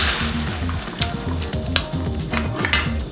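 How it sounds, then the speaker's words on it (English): Food sizzling loudly in a pan while being stirred for an easy weeknight pasta, a steady close crackle with repeated spoon scrapes and occasional clicks, no talking. "I'm going to stir this up and then add my seasonings"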